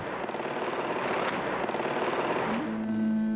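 Gunfire during a three-day siege battle with Al-Qaeda members, filmed by Saudi television: a dense, continuous roar of shots and crackling, fairly loud and unbroken, with a steady tone emerging near the end.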